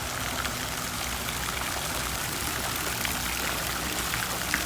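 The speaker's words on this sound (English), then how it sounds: "It's a waterfall." Waterfall beside a resort swimming pool, a steady broadband splashing rush of falling water, constant and fairly close with no other sounds.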